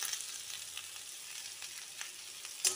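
Mixed vegetables fry in a pan with a dense, continuous sizzle, close and even, with a brief clatter at the end.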